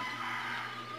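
A short burst of synthetic chicken clucking from a video game, steady and fairly loud, with no talking over it.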